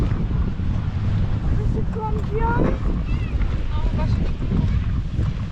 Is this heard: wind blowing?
yes